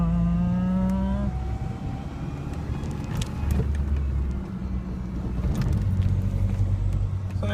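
An old pickup truck drives along with a steady engine drone and low rumble, its pitch shifting as gears change, heard from inside the cab with faint rattles and clicks.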